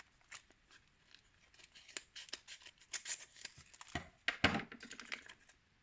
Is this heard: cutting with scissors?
yes